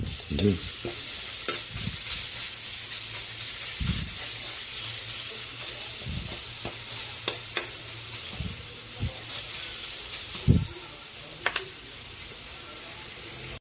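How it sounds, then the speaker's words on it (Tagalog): Ginger and garlic sizzle steadily in hot oil in a pan, the start of a chicken tinola, with a spatula occasionally knocking and scraping against the pan over the continuous frying hiss; no voices. "Magigisa na tayo para sa ating chicken, tinola. Lagay na natin yung luya. Lagay na rin natin yung ating bawang."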